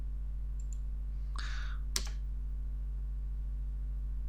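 A few scattered clicks from a computer keyboard while configuring NFS on a Xubuntu machine, two or three brief bursts of keystrokes over a constant low electrical hum, with no talking.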